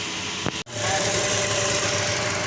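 A Toyota Vios that had trouble starting runs after a brief cut-out, its engine settling into a loud, steady, close running drone with a faint rough knock.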